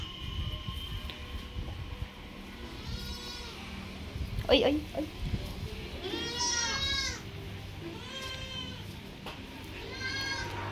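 Goats penned on a farm give several wavering bleats, some overlapping, at moderate distance amid light background noise, while a person calls out short sounds between them.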